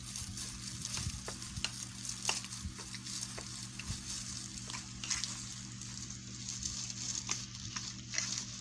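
Mayonnaise and yogurt mixed together in a bowl for salmon maki, giving soft, quick repeated stirring clicks and wet scraping at a low, steady level.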